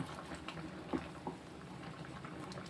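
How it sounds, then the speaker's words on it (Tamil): Dried fish curry simmers in a pot, giving a soft, steady bubbling with occasional pops and light patter, fairly faint and close, with no one talking. "இது நல்லா இன்னும் கொஞ்சம் கொதித்து வேகட்டும்"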